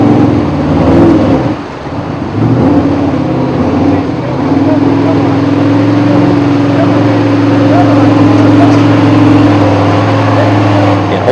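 An off-road truck in a 2002 competition crawls along a rocky canyon trail. Its engine drones loudly and steadily, dipping briefly early on before holding a constant rumble, and a person talks over it.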